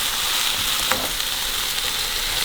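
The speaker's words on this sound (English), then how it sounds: "I'm going to add in my onion and garlic initially and fry that for a few minutes" Chopped onion and garlic sizzle steadily in a hot pan, a loud, even hiss with a faint scrape of stirring near the start and no voices.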